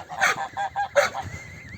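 Geese honk loudly and close by in two harsh bursts, with softer calls between them and a faint whistling tone near the end, on a farm with growing goslings.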